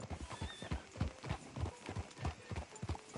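Horse hooves clip-clop at a steady trotting rhythm in a cowboy video game, close and fairly loud.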